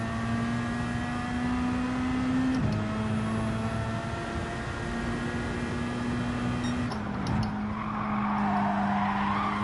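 A race car in Gran Turismo 7 holds a steady, loud engine drone with two gear shifts, then tyres scrub and skid as a rushing noise rises near the end.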